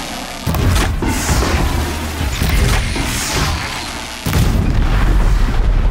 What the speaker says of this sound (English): And there goes the explosion.